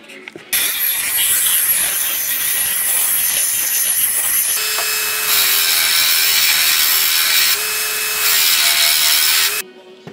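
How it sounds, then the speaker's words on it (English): A small 4-inch angle grinder works on a hardfaced axe edge weld, a loud continuous high whine with abrasive grinding that shifts pitch partway through, then cuts off abruptly. "I'm going to step down to the little 4-inch grinder now."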